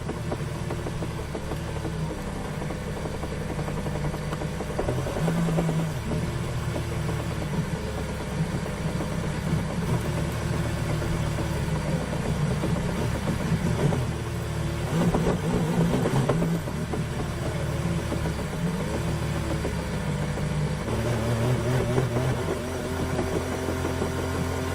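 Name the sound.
Max Verstappen's racing car engine with a failure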